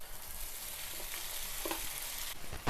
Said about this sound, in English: Now let's add the sabudana mixture